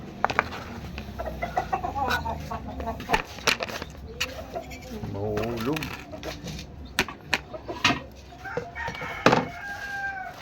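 Chickens cluck and a rooster crows nearby on a farm, with repeated clucks and a clear crow partway through, mixed with voices talking and scattered knocks and thumps.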